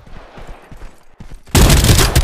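Gunfire in the battle-royale game Farlight 84: scattered lighter shots early, then a sudden dense, loud burst of rapid automatic fire filling the last second.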